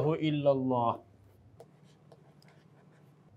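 Chalk or marker scratching on a board, a few faint, sparse strokes heard after a brief burst of talking, quiet and close in a lecture setting.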